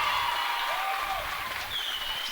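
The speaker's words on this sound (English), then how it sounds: "Our crowd is as loud as they've ever been." Loud crowd noise fills a high school basketball gym during the Marty Indian Braves vs Colome Cowboys game, a continuous roar of cheering and clapping in a large, reverberant space.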